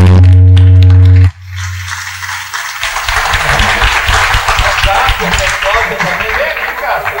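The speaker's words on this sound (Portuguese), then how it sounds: "palmas para a Zezé, a Cássia" Audience applause at a talk-show recording, steady dense clapping rising after a brief loud tone and continuing for several seconds at close range.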